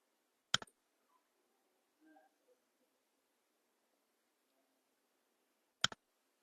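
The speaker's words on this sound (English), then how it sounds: "Click on yes." Two sharp, isolated clicks of a computer mouse several seconds apart, close and crisp against near silence, with only faint small rustles in between.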